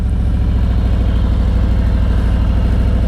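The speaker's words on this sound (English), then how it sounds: "I want to bring up the revs, and it's going to lock my throttle in" A motorcycle engine runs at raised revs while the clutch is slowly let out, a steady close low throbbing drone with no pauses.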